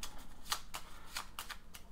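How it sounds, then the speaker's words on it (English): A deck of trading cards being shuffled during a card giveaway, giving a run of quick, crisp riffling bursts at an irregular pace, close and moderately loud over a faint room background. "I'm going to shuffle up"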